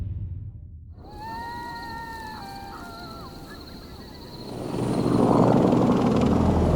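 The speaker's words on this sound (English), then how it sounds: "Two helicopters are traveling towards Abbottabad, Pakistan." Two helicopters' rotors drone steadily, thudding low and growing louder toward the end as they pass close, with a whining engine tone above.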